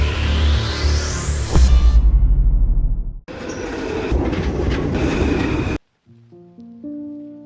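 A Paris Line 2 metro train rumbles loudly with wheel clatter and a rising squeal, then a second rushing run, before a short electronic chime melody.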